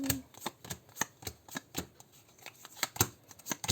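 Quick papery flicks and snaps of tarot cards being shuffled and riffled, an irregular rapid patter close by.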